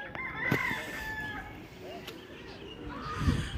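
Rooster crowing at a farm with cows nearby, a fairly faint crow rising and falling amid outdoor ambience, with people talking and other birds in the background.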